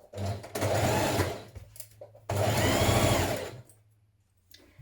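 A sewing machine stitches the centre back seam of a spring dress in two long, steady whirring runs separated by a short pause, close and fairly loud, with no talk.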